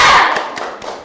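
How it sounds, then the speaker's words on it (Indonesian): A school class does a rhythmic spirit clap: one loud burst of hands followed by a few quick, fading claps, close by, over about a second. "Tepuk semangat."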